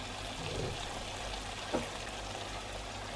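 A brief, soft splash of water poured into a pan of potato and cauliflower masala curry, faint against low background hum.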